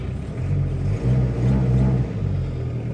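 A Toyota Corolla CE120 with a 2.0D diesel engine idles just after starting, a low steady rumble with a slight rhythmic pulsing that swells and eases, heard up close with no talking.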